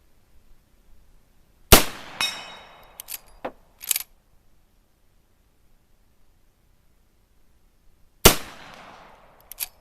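Two sharp, loud rifle shots from an Uberti 1873 Winchester lever-action fitted with a Marble's tang sight, each followed by a ringing, decaying tail, with a few lighter metallic clacks of the action working between them.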